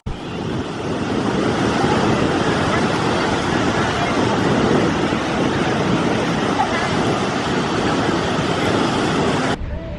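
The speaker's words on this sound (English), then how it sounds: "This beach is absolutely crowded, but the water is perfect." Surf rolls in at crowded Clearwater Beach, a loud, steady roar of waves and wind that cuts off abruptly near the end.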